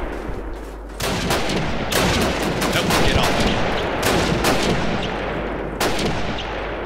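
Gunfire in the video game Call of Duty 1, loud repeated shots and bursts cracking out over a rumbling battlefield backdrop, with irregular rapid volleys through most of the stretch.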